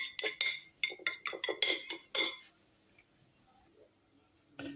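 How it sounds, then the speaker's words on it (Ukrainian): A utensil whisking an egg clinks rapidly against a bowl in a quick burst of short beats, then stops, leaving near silence before one last clink. "Збиваємо яйце, щоб воно було гарно розбите."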